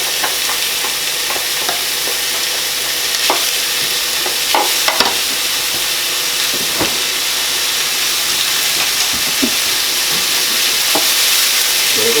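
Minced meat browning in a hot pan without oil for spaghetti bolognese, a loud, dense, hissing sizzle throughout with occasional scrapes and knocks of stirring, close-up with no voices.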